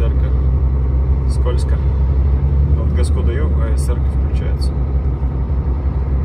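A car accelerates on a slippery winter stretch of the M-7 highway, its steady low engine and road rumble filling the cabin with traction control cutting in, while someone talks throughout.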